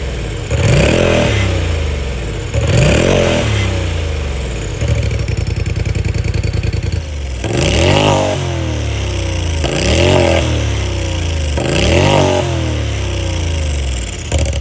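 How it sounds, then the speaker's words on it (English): A Polaris RZR's loud engine revs repeatedly in sharp bursts through an Agency Power dual-tip valvetronic exhaust, a deep throaty roar rising and dropping back, with a rough idle between revs. "we have the agency power dual tip valvetronic exhaust. Before we even talk about it, let's hear how she sounds."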